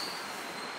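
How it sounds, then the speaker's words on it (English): A Metro-North cab car train pulls into Wood-Ridge station with a faint, steady rolling rumble and a thin, sustained high wheel squeal during a very short stretch. "That's the Metro North cab car I saw a couple weeks ago"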